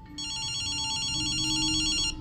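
A telephone rings in the game Ghostwire: Tokyo, one continuous bright electronic trill sounding loud and close for about two seconds with no voices.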